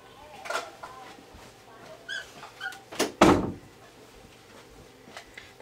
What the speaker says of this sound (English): In fact, I'm going to shut the door.